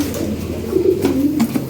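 Fancy pigeons cooing up close, a short run of low throaty coos with a few faint knocks in the background.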